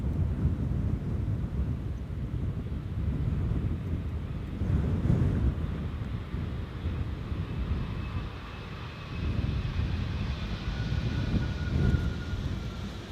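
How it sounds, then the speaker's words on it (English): A KLM Embraer 190 jet airliner lands at Amsterdam Schiphol, a steady low roar of engine noise mixed with buffeting wind across the microphone, sustained and moderately loud throughout with slight swells. "In the meantime, a KLM Embraer 190 has landed over here just now."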